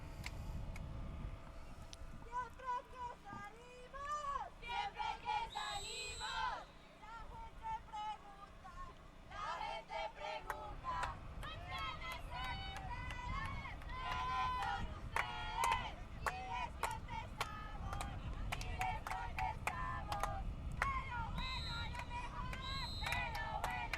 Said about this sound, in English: Lots of chanting and cheering here on the sideline from the Colombian team